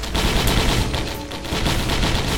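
Missiles fire in a Risk of Rain video game fight against the Ifrit boss, a dense, loud barrage of rapid blasts and explosions that continues for the whole clip without talking.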